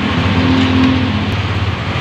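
A 2020 Genio car engine running right after starting, heard close in a mechanic's workshop as a loud, even idle hum with a low steady drone and a brief higher tone early on.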